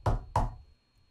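Two firm knocks on a front door, close and loud, evenly spaced a fraction of a second apart, then quiet.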